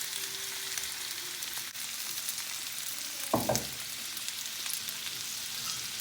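Carrots and other vegetables fry in a pan with a steady, bright sizzle, broken midway by a short scrape of stirring, with no voices.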